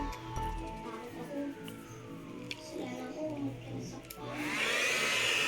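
A hair dryer kicks on near the end and blows a loud, steady close-up whoosh, after a quieter stretch of household background and talk.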